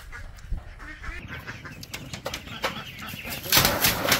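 Ducks at a duck farm quack and honk in a dense, overlapping flock chorus, close and fairly loud, with wing flaps and a louder burst near the end.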